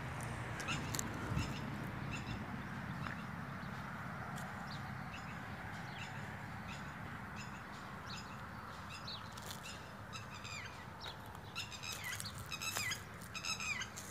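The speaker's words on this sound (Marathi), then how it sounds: "त्यात पक्ष्याचा आवाज येतोय." Birds call and chirp from thick tree cover on a holiday morning, with scattered tweets and squawks repeating through steady outdoor ambience, moderately distant and never loud.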